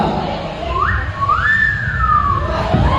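A mimicry artist on a college stage whistles a cricket's call with the voice: rising and gliding whistled tones, loud and close over a steady crowd and room murmur.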